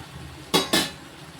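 Chopped tomatoes going into a pan of brinjal chutney, two quick close clattering thumps of pieces and utensil against the pan against a quiet background.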